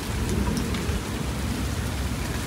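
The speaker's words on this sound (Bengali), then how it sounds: "অবশেষে এখন বৃষ্টি শুরু হলো সন্ধেবেলা" Evening rain falls steadily in a dense, even hiss of drops striking surfaces, close and continuous with no pauses and no voices.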